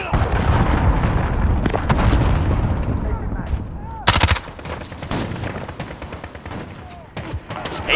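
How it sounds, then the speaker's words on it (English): Cruise missile strike and gunfire in the online shooter Call of Duty Modern Warfare, a rolling blend of rapid shots and heavy blasts with one sharp loud burst midway, voices shouting over the combat. "Enemy cruise missile, take cover!"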